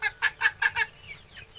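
Young Rhode Island Red chickens cluck close by in a farmyard, five quick evenly spaced clucks followed by softer, trailing murmurs.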